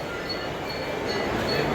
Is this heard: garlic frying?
no